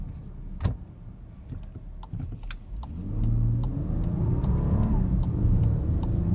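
A 2021 Volkswagen Atlas Cross Sport V6 SEL Premium pulls away from a stop sign, its engine note building from quiet idle into a steady, rising rumble with clicks and cabin noises before it.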